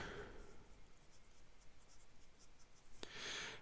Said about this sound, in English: And then we'll do an ink or writing sample.